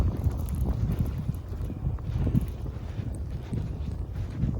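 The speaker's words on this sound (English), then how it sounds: "The wind is like, forget it." A strong blizzard wind buffets the microphone on a Brooklyn, New York street, a loud continuous rumbling roar with gusty swells and no pauses.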